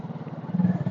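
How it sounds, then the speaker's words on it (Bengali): A motorcycle riding fast on a village road, a close, steady low engine drone with a rapid pulsing rhythm that swells slightly louder toward the end, no talking. "বাইক তাড়াতাড়ি চলছে"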